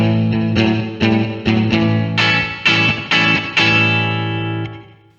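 Distorted electric guitar through an Ibanez TSA15H tube amp playing a riff, thick sustained chords struck in a steady series, loud and alone with mild breakup.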